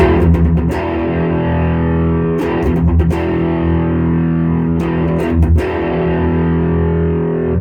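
Electric guitar through a Master Shredder Doom Beast distortion pedal set to clip harder, playing loud sustained saturated chords with brief pick attacks and gaps, thick and dark in tone, no talk.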